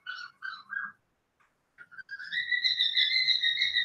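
A person whistles imitation bird calls: a few short chirps, a pause, then a sustained warbling trill, fairly close and clear.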